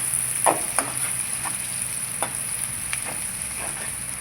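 Chopped onions sizzle steadily in a hot pan of oil, a constant bright hiss broken by several soft scrapes and stirs, with no voices.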